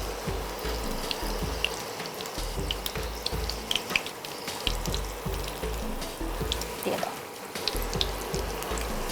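Jute leaf fritters frying in hot oil, stirred in the pan, give a steady wet hiss and bubbling with soft scrapes throughout.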